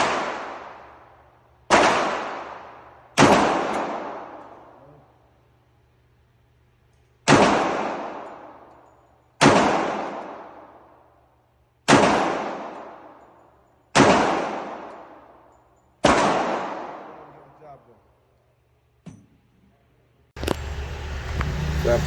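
Five sharp, loud .45 ACP shots from a 1911 pistol at an outdoor range, each crack followed by a long decaying echo, spaced about two seconds apart, with a low hum under them and a burst of noise at the end.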